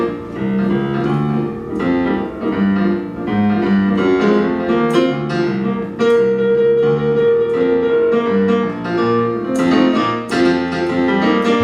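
A live band plays an original song at a community benefit show, with steady full instrumentation and sustained melodic tones throughout, loud and continuous.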